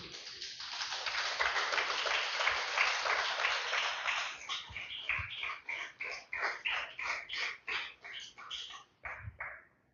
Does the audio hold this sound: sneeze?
no